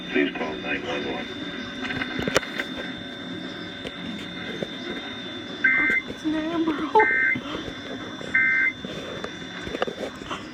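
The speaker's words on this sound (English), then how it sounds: "that was an official Amber Alert from State Police" A radio station airs an official State Police Amber Alert, an emergency broadcast for a child abduction. Three short, bright tone bursts sound a few seconds apart, steady and even, under and between a broadcast voice.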